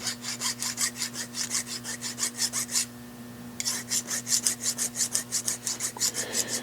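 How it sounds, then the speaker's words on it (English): A hand file rasps back and forth across a metal part for a five-cylinder engine, in steady rhythmic strokes at close range. A brief pause comes midway before the strokes resume, with a constant low hum underneath and no speech. "See if I can take and sand or file that down."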